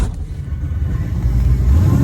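A 1996 Chevrolet Impala SS with a blown transmission revs its engine and pulls away, a close, loud low rumble that builds steadily over two seconds with no talking.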